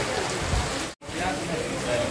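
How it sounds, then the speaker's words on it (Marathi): Heavy rain pours down outdoors at a roadside stop near Khandala point, a steady dense hiss with a brief cut in the middle. "बाहेर पाऊस बघा किती जोरात आलेला आहे"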